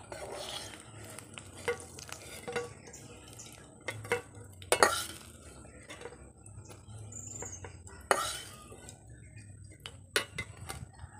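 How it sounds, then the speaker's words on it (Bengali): Eggplant slices fry in a pan with a steady sizzle of hot oil, broken by repeated clinks and scrapes of a utensil against the pan, close and moderately loud, with no speech. "আর যেই বেগুনগুলো রয়েছে সেগুলোকেও এক এক করে ভেজে নেব।"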